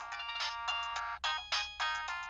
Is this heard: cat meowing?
no